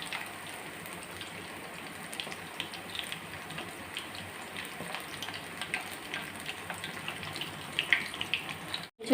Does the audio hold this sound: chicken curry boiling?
yes